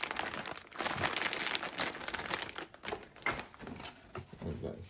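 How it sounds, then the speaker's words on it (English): A plastic parts bag from a Kyosho Turbo Optima Mid Special RC car kit crinkling continuously and close, with steady rustling and crackling for several seconds and quiet talk underneath. "Plastic bag."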